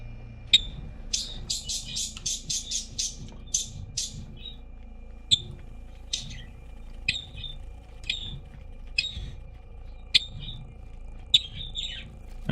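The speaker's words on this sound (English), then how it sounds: "Birds are all chatting to each other. You probably hear that." Synthetic birds chirp in a space video game: a quick flurry of high, bright tweets in the first few seconds, then single chirps spaced a second or two apart over a low steady hum.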